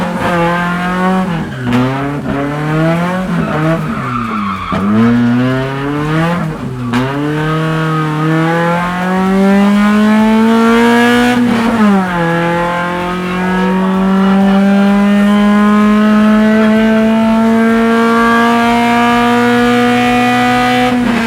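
A Volvo 740 drift car's engine fires up and revs hard and close, pitch sweeping up and down in repeated blips before settling into a long, loud, steadily climbing drone.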